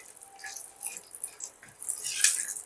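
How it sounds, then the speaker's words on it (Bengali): A slit green chili and black cumin seeds fry in hot oil, giving a soft, uneven sizzle with small crackles that grow a little louder near the end. "ফোড়নটাকে একটু ভেজে নেব।"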